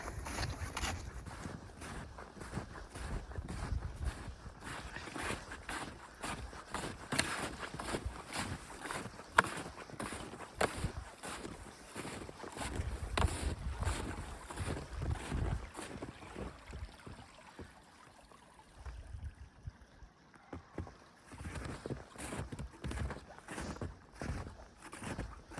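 Snowshoes crunch in steady footsteps along a snowy winter trail, close and fairly quiet, with wind noise brushing the mic and a brief pause near the end before the steps resume.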